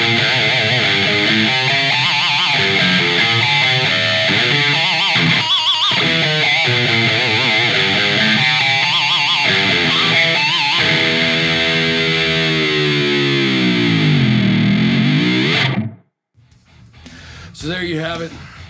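A loud, heavily distorted electric guitar through an AmpliTube amp plugin plays a chugging riff with pitch-bending squeals, ending abruptly before a few quieter picked notes.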